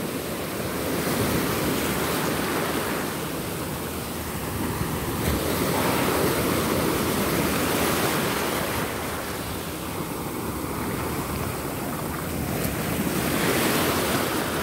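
Sea waves break steadily on the shore at Daecheon Beach on a summer day, a continuous rushing surf with swelling crests and light wind buffeting the microphone, no voices.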